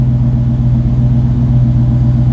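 A Countach replica's engine idles at raised revs, a loud, steady, deep rumble with a throbbing low hum and no pauses, close to the car.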